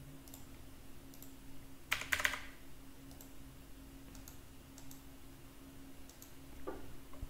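Typing on a computer keyboard during Chrome extension coding, sparse faint key clicks with one quick cluster of taps near the two-second mark, over a quiet steady background hum.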